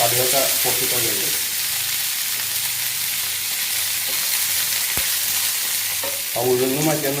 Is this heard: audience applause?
no